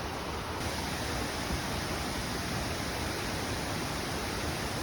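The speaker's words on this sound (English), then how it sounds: "I also visited Kwangsi Waterfall, which was jaw-dropping." Kuang Si Waterfall in Laos pours with a steady, full roar of rushing water, loud and unbroken throughout with no voices.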